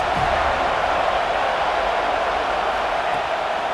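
Steady roar of a stadium crowd cheering on third down in EA Sports College Football 26, a continuous broad wash of noise with no distinct voices, fairly loud and unbroken.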